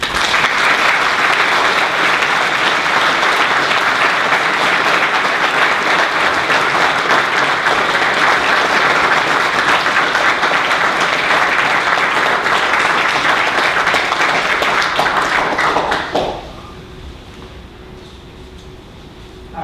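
Sustained loud audience applause welcoming physicist Professor Alan Guth to the stage for a lecture on inflationary cosmology, steady clapping filling the hall for about sixteen seconds before cutting off abruptly into quiet room tone.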